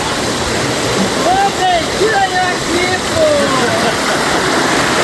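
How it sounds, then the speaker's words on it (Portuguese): Small waterfalls on the Guaxinduba river at Canta Galo make a steady, close rushing of water, with faint overlapping whistles or bird-like tones rising above the continuous broadband wash. "Olha o barulho da água aí. O barulho das águas. As cachoeirinhas aí."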